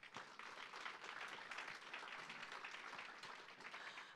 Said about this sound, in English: let's all give one more round of applause to all our incredible speakers today